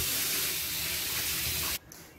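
Hot water gushes steadily from a kitchen tap in a broad, continuous rush, loud and close, then cuts off abruptly near the end, leaving quiet.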